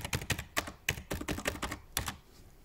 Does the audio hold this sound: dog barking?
no